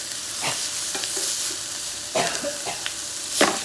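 Chicken pieces with Italian seasoning brown in a skillet, a steady bright sizzle with occasional pops and scrapes of stirring, close and alone without voices.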